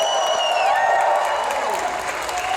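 Audience at a comic con Q&A session cheers and applauds, a continuous dense crowd roar with clapping and some tonal whistles or shouts near the start, sustained and loud throughout.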